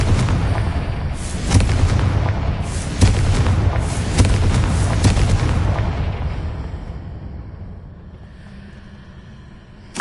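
A loud blasting-spell explosion booms with several heavy detonation bursts over roughly the first six seconds, then rumbles and fades into a quieter tail.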